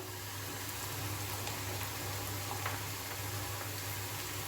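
Curry leaves and onion sizzle softly and steadily in a pan with a faint, even crackle under a low hum. No one speaks.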